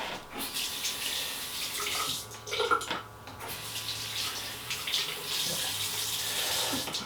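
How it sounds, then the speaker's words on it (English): Tap water runs steadily into a sink while hands are rinsed beneath it, a continuous close splashing hiss with brief irregular surges. "Rinse my hands."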